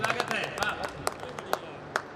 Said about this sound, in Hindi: एक बार हमें तालियां बजा करके आदेशित कर दीजिए कि हम काव्य पाठ शुरू करें